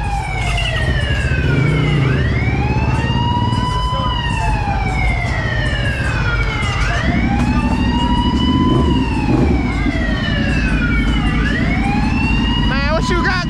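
A loud siren wails nearby, rising and falling in slow repeated sweeps during a late-night dirt bike ride, with an engine rumbling low underneath.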